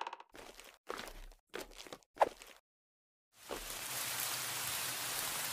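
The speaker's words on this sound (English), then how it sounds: "Great weather. I love the rain," Rain in a subway horror video game: several short bursts of noisy rainfall give way to a steady, soft hiss that goes on alone without any voices.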